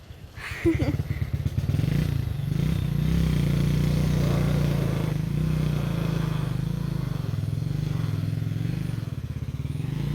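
A motorcycle rides down a bad, muddy rural road near Azucena Tres Cruces in Joyabaj, Quiché, with a steady engine drone and intermittent clatter and scraping from the rough surface throughout.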